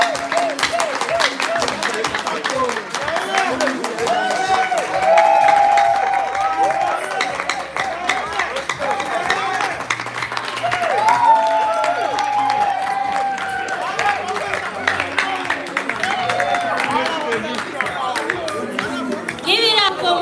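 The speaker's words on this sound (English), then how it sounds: "Give a round of applause for Sharon" A round of applause at a gala dinner party, with scattered clapping, cheers and chatter from a lively crowd mixed with voices and background music throughout.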